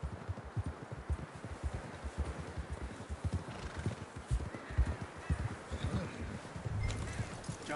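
Hooves of a galloping horse in the Red Dead Redemption 2 video game, a steady rapid clip-clop rhythm that carries on throughout at moderate loudness, with a short whinny.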